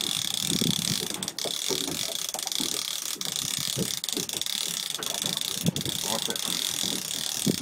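A fishing reel is wound in while fishing at Port Stephens, giving a steady ratcheting, clicking whir that runs throughout under wind noise, with people talking nearby.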